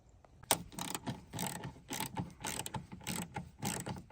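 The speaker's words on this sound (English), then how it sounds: "I'm gonna thread this in using the Allen wrench" An Allen wrench threads a bolt into a hood mount bracket on a Jeep JKU, giving close, repeated ratcheting clicks and metallic turning sounds in short rhythmic bursts.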